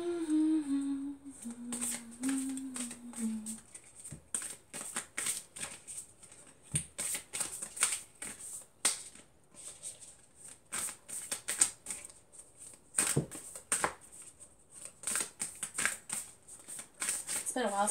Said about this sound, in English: It's been a while since I shuffled this deck